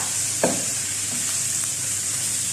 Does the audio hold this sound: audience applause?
no